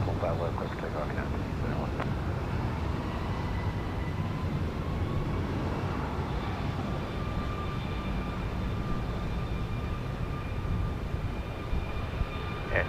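An airliner takes off at Houston Intercontinental airport, producing a loud, continuous broadband jet roar with a faint rising whine that holds steady throughout.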